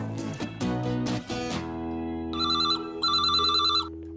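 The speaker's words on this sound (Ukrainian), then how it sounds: "А я поки зателефоную Венді, розкажу, що чекала" A telephone rings in the Bob the Builder cartoon, two bright trilling bursts over a sustained musical background.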